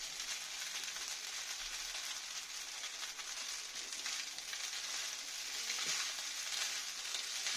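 Steady, bright sizzle of fried chicken tossed into a pan of pasta with capsicum and carrots, continuous and close for several seconds, without talk.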